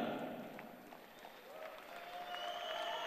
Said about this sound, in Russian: Давайте поддерживать, аплодируем победительницам, чемпионкам мира по рукопашному бою